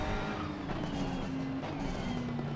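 Engines of race cars in a sim racing game roar steadily at a corner, with tire noise and a sustained engine tone running throughout. No distinct crash impact stands out.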